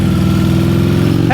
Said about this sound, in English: That thing just came up all quiet. I love that motorcycle, man.